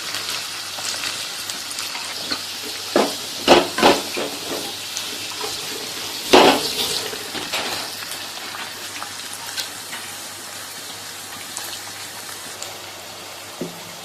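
Curry leaves, chopped onions and green chillies fry in a pan for a snake gourd curry, a steady sizzle broken by a few louder crackles and stirring clatters near the start and middle, then settling to a softer fry.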